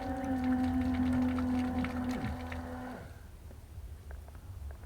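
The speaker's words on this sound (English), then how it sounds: "We hear when the pump works and the noise are changing where this tank is empty" Water pump in a DIY campervan running with a steady droning whine that drops in pitch and cuts out after about three seconds as the tank empties, leaving faint gurgling and clicks.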